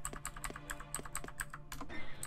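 A computer keyboard clacks during game play, a quick, uneven run of crisp close keystrokes, faint overall, with no talking.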